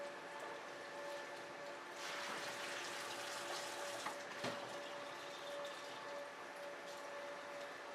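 Water is poured out and refilled in a steady wash during film development with Ilford DF96, a continuous soft trickle and splash at moderate distance with no talking.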